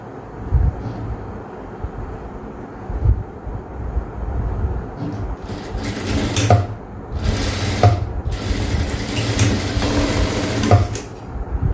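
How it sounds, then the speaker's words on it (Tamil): A sewing machine stitches blouse pieces in bursts, with the whirring, rattling runs starting and stopping several times over a low mechanical hum. Nobody speaks. "இப்போ இதை நம்ம இப்படி வச்சு அதே மாதிரி தையல் போட்டுக்கலாம்"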